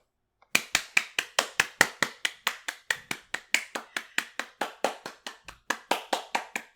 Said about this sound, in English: I was just clapping.